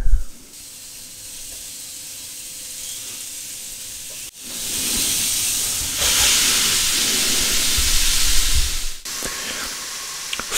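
Meat searing on a hot contact grill in a home kitchen, a loud steady hiss and sizzle that swells after a brief pause and continues strongly, with a clunk as the lid shifts.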